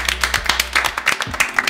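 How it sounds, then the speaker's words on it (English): A studio audience at a talk show about dreadlocks claps in quick, uneven bursts, steady and fairly close for nearly two seconds, with a faint low hum underneath. "Give yourselves a round of applause"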